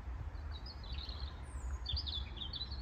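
Small tits, great and blue, chirp at a garden feeder on an allotment plot, thin high calls scattered in short bursts over a low steady rumble of wind or distant traffic, with no one talking.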